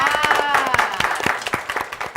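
Children in a group clap together for a team, a short burst of quick, uneven hand claps close by, with bright chattering voices mixed in.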